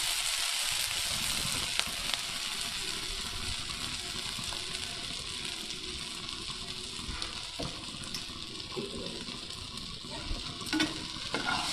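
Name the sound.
frying food sizzling in pan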